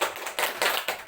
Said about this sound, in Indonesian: Beri tepuk tangan kepada kita semua.